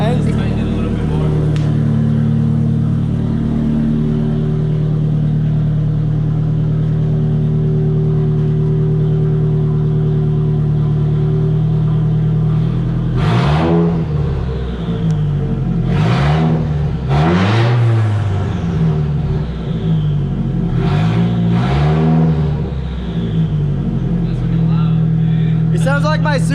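A right-hand-drive Nissan S13 Silvia from Japan idles steadily, its exhaust leaking at the gaskets, then revs sharply in several loud bursts partway through before settling back to a rumbling idle, with people talking over it.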